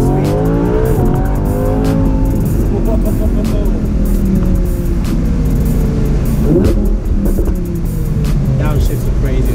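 A 2018 Audi R8 V10 Spyder engine revving and pulling hard, a loud continuous roar with rising and falling pitch through gear changes, heard from inside the car as people talk over it.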